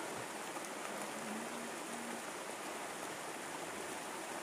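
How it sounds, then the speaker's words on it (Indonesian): Rain pours down in an Indonesian village, a dense, even hiss of falling drops that stays constant and fairly soft throughout, with no voices. "Ini mau hujan-hujanan."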